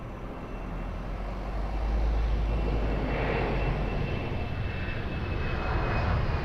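A fixed-wing airplane takes off at Lisbon Airport, its engines a loud, steady broadband roar that swells and holds throughout with no talk over it.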